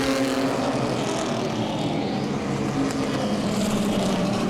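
A Pro Six race car, number 57, roars past at Langley Speedway, a loud sustained engine drone with a gradual rise and fall as it passes amid general track noise.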